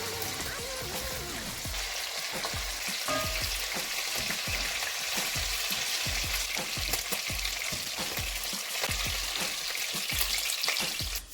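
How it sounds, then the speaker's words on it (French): Fish and seafood frying in hot oil for Senegalese thiéboudiène, a steady loud sizzle crackling throughout with repeated low knocks and stirring scrapes in the pan, no talking. "vais donc verser de l'huile et je vais frire le poisson."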